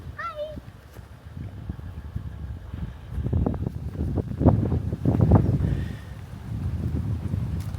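Wind blowing at the beach in Robe, South Australia, a steady low roar with gusty swells buffeting the microphone, rising louder in the middle, while a voice speaks faintly under it.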